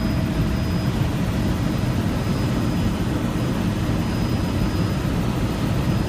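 A helicopter flies over Lake Mead near Hoover Dam, its engine and rotor making a loud, steady, unbroken drone throughout with no voices.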